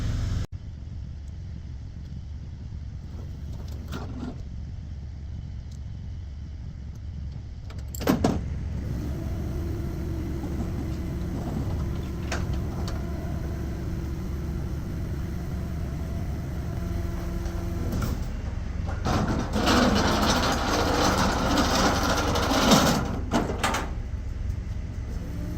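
An electric motor hums steadily while a car hauler trailer's deck is lowered by remote all the way to the ground, with a few clicks and clunks and a slight rise in whine near the end.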